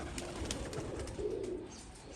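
A pigeon coos softly in a low, steady murmur, fairly faint and alone with no voices.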